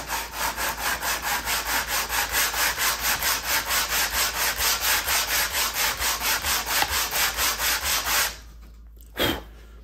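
HO scale cork track bed being sanded by hand, a fast steady rhythm of close rasping strokes, roughly three per second, for about eight seconds before stopping, followed by one brief scrape.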